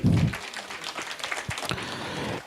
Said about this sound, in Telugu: ఓకే, చప్పట్లు.